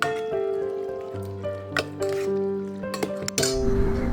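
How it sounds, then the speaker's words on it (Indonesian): Cut chicken pieces are stirred and turned over with marinade seasoning in a container, close clinking and scraping knocks with ringing metallic tones and wet shuffling, no talk. "Kemudian ini aduk bolak-balik hingga tercampur merata"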